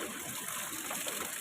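Steady rushing water, loud and continuous like a tap or stream pouring, with no talking over it.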